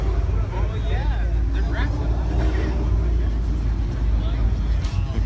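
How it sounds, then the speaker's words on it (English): A car engine revs and spools up in the open air at a weekly outdoor car and truck show at a donut shop in Huntington Beach, California, a steady loud rumble with passing vehicle noise and people talking nearby. "heard somebody spooling up out there"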